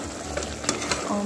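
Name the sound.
duck curry being stirred and fried in a pan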